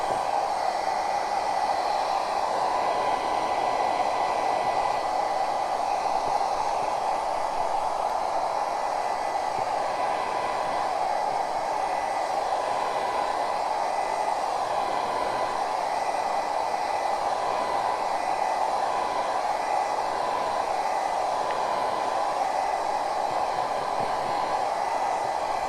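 A hair dryer drying a turquoise-painted craft jar keeps up a loud, unbroken airy roar for the whole stretch, steady and close, with no voices.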